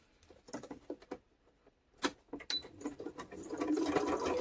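Sewing machine stitching through paper to make junk journal tags, with short bursts of rapid needle clatter separated by pauses, then a longer steady run toward the end, close and fairly quiet.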